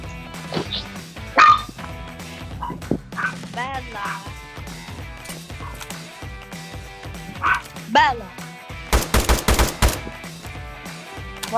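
Gunfire rings out in the mobile battle royale game PUBG Mobile, a rapid burst of shots near the end after scattered single pops, mixed with game sounds while players talk over it.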